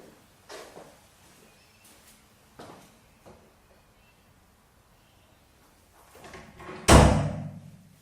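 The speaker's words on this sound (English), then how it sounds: "So just going to close the first door." A heavy recording studio door is closed, with a few soft bumps and handling sounds before a loud, close thud as it shuts, then a short fading resonance.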